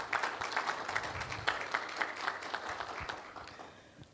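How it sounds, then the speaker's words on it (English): An audience at a disaster risk management stakeholder meeting claps for itself, brief and moderately quiet applause with distinct individual claps, tapering off toward the end. "Could you all give yourselves a round of applause for making it to the meeting?"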